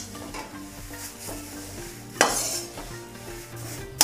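Moringa leaves dry-roasting in a pan on a low flame, stirred with steady scraping strokes and a soft sizzle, with a louder metallic scrape partway through and a clink at the end.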